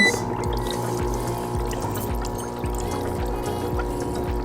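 A foot spa bath bubbling and churning water for a home pedicure, a steady, loud, continuous gurgling wash with a low rhythmic pulse running throughout, heard alone without talk.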